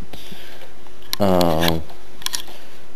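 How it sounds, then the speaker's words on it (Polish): A microphone on a desk mount is shifted by hand, giving a few dry clicks and knocks close to the mic around a brief hummed voice. "sorry za ten szum, ale musiałem poprawić e, mikrofon."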